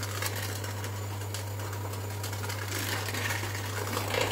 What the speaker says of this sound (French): c'est d'utiliser le batteur électrique